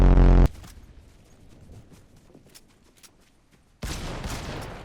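A loud burst of Fortnite gunfire opens, then quieter scattered pops and clicks, before another dense loud volley of shots near the end.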